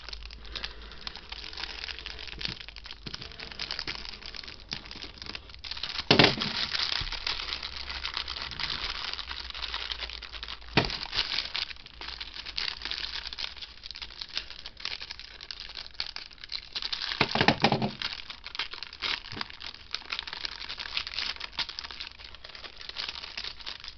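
A box cutter slicing open a magazine kit package, with close crinkling plastic and cardboard, scattered ticks and scrapes, and two louder tearing bursts.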